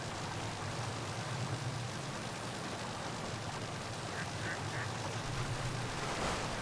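Ducks in Zelda: Tears of the Kingdom give a few faint, short quacks at a large lake, set against a steady hiss of ambient game noise.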